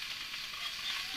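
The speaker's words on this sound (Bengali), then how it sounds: "আমি এখন ভাজিটাকে ভালোভাবে ভাজি নেব।" Freshly caught fish fry in hot oil in a pan for fish curry, giving a steady, close hiss of sizzling throughout.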